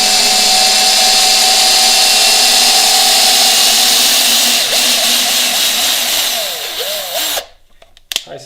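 A Parkside PABS 20-Li D4 cordless drill drives a giant screw into wood, whining loud and steady at high speed for about seven seconds, then bogging down and stopping, followed by a few short bursts.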